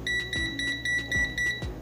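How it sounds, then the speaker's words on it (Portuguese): A multimeter beeps after its reading reaches 10 amperes while a switching power supply is load-tested: a quick run of about seven clean, evenly spaced electronic beeps, with soft low clicks in the background. "Multímetro bipou porque já bateu os 10 amperes."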